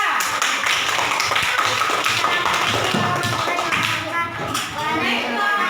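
A classroom claps for a student group after their presentation, a dense burst of hand clapping with children's voices and talk over it.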